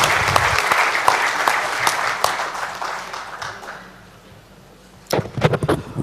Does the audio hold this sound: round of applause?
yes